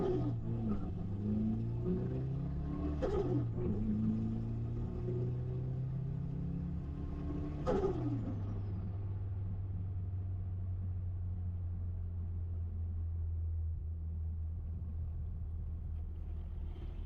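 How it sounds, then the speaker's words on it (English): A turbocharged Toyota 3RZ engine with a log manifold settles to an 800 rpm idle after the car comes to a sudden stop, with a steady low rumble holding even and continuous inside the cabin. "It's idling at 800 revs."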